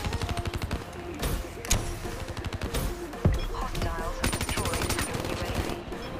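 Gunfire in the Black Ops 3 shooter game on PS4, long rapid automatic bursts with sharp louder single shots mixed in, near and dense, broken by short pauses and continuing through the whole stretch.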